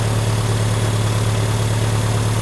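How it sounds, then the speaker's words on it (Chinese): Mercedes W123 230TE with a repaired fuel distributor, engine idling cold at about 1100 rpm, a steady loud unbroken hum heard close with no voices. "我们来看看它目前的转速是 1100转因为现在还在冷车"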